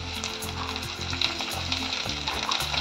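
Fresh green peas hit a hot pan of kurma base, giving a loud, continuous close-up sizzle and crackle with light stirring throughout.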